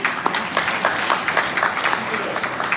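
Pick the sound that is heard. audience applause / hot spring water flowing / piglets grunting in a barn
audience applause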